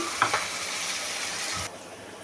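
Potatoes frying in oil in a pan for chicken fried rice, a loud continuous sizzle with a couple of stirring scrapes near the start, close up and without talk.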